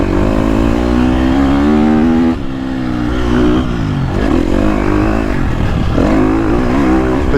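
A 2022.5 KTM 250 Factory Edition four-stroke motocross bike revs hard on a GP track. The engine sound is loud and sustained, with the revs rising and falling briefly around the middle of the clip. No one speaks.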